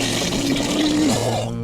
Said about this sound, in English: Even the newly fixed front tooth was blown away by a burst of projectile vomiting